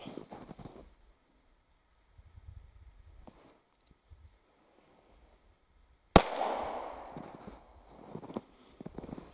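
An early Smith & Wesson tip-up revolver loaded with black powder fires a single sharp, loud shot outdoors after a quiet stretch of faint rustling, and a brief noisy tail follows the blast.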